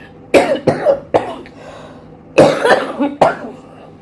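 Repeated harsh coughing close by, several bursts in two clusters with short pauses between them.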